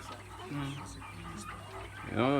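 Chickens clucking in a henhouse at an urban poultry farm near Fada, a few close hen calls with a louder burst at the end, over faint background hum.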